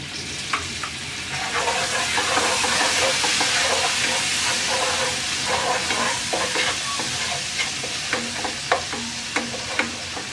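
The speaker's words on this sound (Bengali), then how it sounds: "হাফ চামচ চিনি, অল্প একটু পানি দিয়ে মশলাটা কষিয়ে নেব।" A spice paste with grated orange peel, half a spoon of sugar and a little water fries in a pan for orange hilsa curry, with a loud, continuous sizzle and frequent scraping of a stirring spoon.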